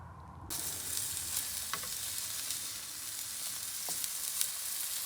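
Steady, close sizzling of burgers frying in a hot pan, a continuous crackling hiss with occasional small pops.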